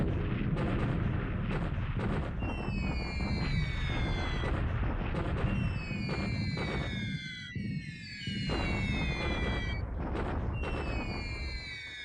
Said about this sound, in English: I'm bombing this collection of Allied troops south of Kwanton.